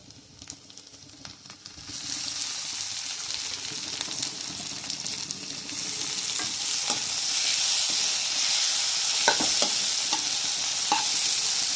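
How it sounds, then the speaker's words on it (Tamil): Tomatoes added to well-sautéed onions sizzle steadily in a pan, a loud continuous hiss that swells after the first couple of seconds, with occasional stirring clicks and no talking. "நல்லா ஆனியன் வதங்கிடுச்சு. இப்போ நம்ம தக்காளி ஆட் பண்ணிக்கலாம்."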